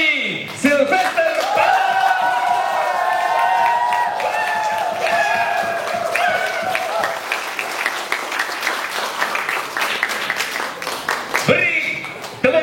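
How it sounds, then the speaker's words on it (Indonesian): Theatre audience at a Teater Nara Larantuka performance breaking into sustained loud applause after a brief pause, clapping and cheering for over ten seconds before fading, with a voice briefly heard over it. "beri tepuk tangan sekali lagi penonton-penonton yang berbahagia"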